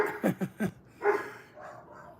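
Dog barking a quick series of three or four sharp barks, then a longer drawn-out bark and a fainter whine-like trailing sound, moderately close in a quiet room.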